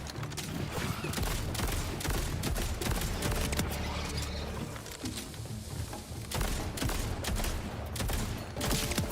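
Gunfire in Borderlands 4: a level 3 blue shotgun fires repeatedly among other mechanical clatter and booms, loud and near, in irregular bursts throughout, with no voices.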